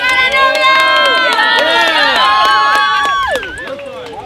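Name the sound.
wedding guests applauding the bride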